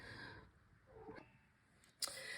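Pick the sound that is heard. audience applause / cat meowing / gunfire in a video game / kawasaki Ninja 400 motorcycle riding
cat meowing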